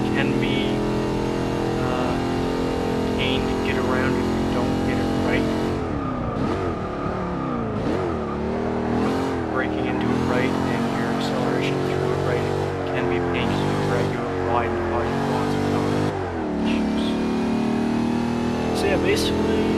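Jaguar XKR-S GT engine in Forza 6 during an A-Class time attack, droning loud and steady, then repeatedly lifting off and climbing back through the revs in short sweeps, with a voice talking over it.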